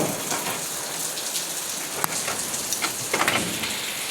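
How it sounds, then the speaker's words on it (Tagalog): Heavy rain pours outside in a dense, steady roar of drops, with a few sharper close splashes and no voices. "kay grabe ka kusog sa ulan as in."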